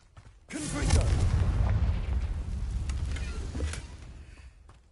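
A Confringo blast spell from Hogwarts Legacy bursts in with a sudden boom, then rolls out as a heavy, sustained rumble of about four seconds that slowly fades. No one speaks.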